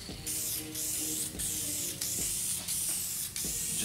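Light, uniform coat being sprayed onto vinyl golf cart seat pleats, a steady close hiss broken into several bursts of about a second each with brief pauses between.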